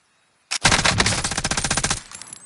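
Machine gun fire in the video game Call of Duty Warzone: a sudden, loud, sustained automatic burst of rapid, evenly spaced shots lasting about a second and a half, then trailing off.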